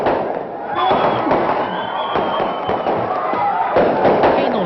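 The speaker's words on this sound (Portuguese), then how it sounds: "Queima de fogos." Fireworks at the end of a favela party in Rocinha, Rio de Janeiro, crackle and pop in dense continuous bursts over crowd noise and voices.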